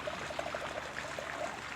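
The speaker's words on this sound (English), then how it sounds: "So let's go ahead and pour this up" Crianza red wine poured from a bottle into a glass, a steady close trickle and splash running through the whole short stretch with no talk over it.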